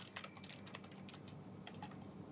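Soft, rapid clicks of on-screen text typing out in the game Danganronpa, quiet and steady in irregular little bursts, with no talking.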